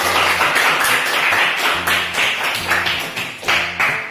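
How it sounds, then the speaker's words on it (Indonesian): A classroom group claps steadily for several seconds, a dense patter of hands with some louder individual claps, indoors and fairly close. "Tepuk tangan dulu dong untuk teman kita."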